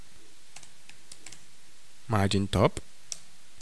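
Typing on a computer keyboard: a few faint, sparse key clicks at close range, with a short stretch of speech in the middle.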